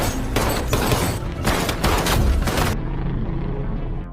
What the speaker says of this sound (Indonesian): Sampai akhirnya, Tom dan Michael terlibat baku tembak